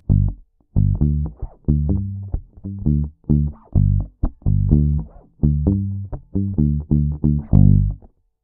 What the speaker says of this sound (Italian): un suono da musica reggae, per esempio possiamo chiudere tutto il tono in serie e usare un po' di palm muting